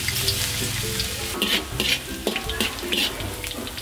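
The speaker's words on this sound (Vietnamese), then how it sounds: "Mình chờ cho dầu nóng thì mình sẽ cho tỏi vào." Minced garlic sizzles in hot cooking oil in a pan for crispy fried squid with fish sauce, crackling close up with bursts of spatter and a few stirring scrapes.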